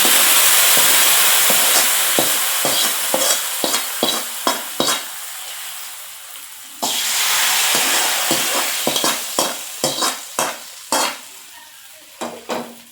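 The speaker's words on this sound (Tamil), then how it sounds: "இப்போ வந்து தாளிப்பை குழம்புல சேர்த்துக்கலாம்" Hot mustard seed tempering poured into a pot of toor dal gravy with the gas turned off, a loud steady sizzle and hiss that fades, then resumes, with repeated sharp spoon clinks and stirring taps throughout.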